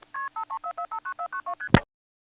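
A 1977 XY step telephone exchange identifier sends nine digits as a quick, evenly spaced series of clear tone bursts, ending in a sharp click.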